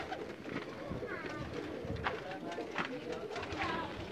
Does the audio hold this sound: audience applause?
no